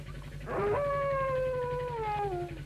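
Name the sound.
dog howling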